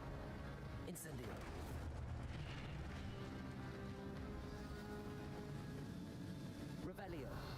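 Incendio fire spell cast in Hogwarts Legacy: two sharp fiery bursts near the start and end over a loud, dense rumbling game backdrop, with a voice talking throughout.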